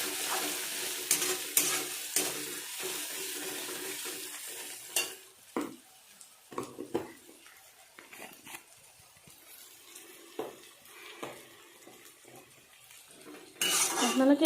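Cumin seeds frying in a pan for Assamese chicken curry, a faint sizzle broken by sharp utensil scrapes and clinks against the pan, with no talking.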